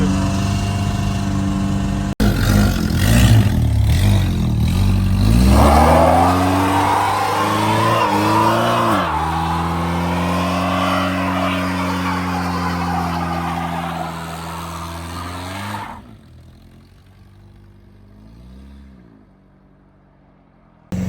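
A car with a 1.6 engine revs hard to warm up, loud rising and falling engine tones held for several seconds before cutting off abruptly, leaving quiet.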